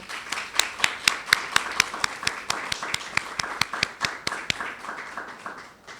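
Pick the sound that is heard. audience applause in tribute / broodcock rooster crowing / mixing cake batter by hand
audience applause in tribute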